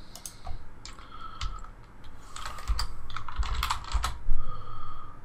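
Computer keyboard keys clatter in quick irregular bursts while a user name is renamed in the Mumble voice chat program, crisp close clicks with brief pauses between runs and no talking.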